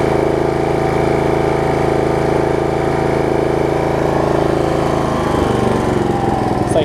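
A Snapper RER riding lawn mower engine runs steadily at full throttle, a loud, close, even drone with a constant pitch that shifts slightly near the end, with no talk over it.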